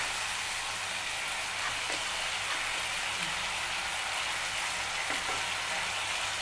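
Tomato and peanut curry sizzles steadily in a hot pan while being stirred, a constant close frying hiss with faint scraping and no talk.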